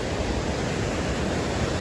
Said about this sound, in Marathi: पाणी बघा कधी स्पीडनी जातं